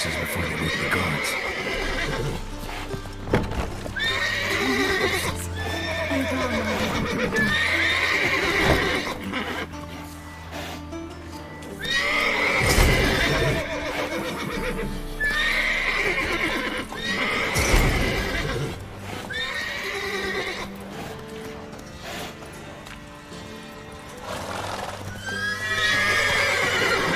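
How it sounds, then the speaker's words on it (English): Several horses neigh and whinny repeatedly in Witcher 3 on PS4, loud, shrill calls recurring every few seconds over steady hoof clip-clop and a low game ambience. "Gotta calm all the horses before they wake the guards."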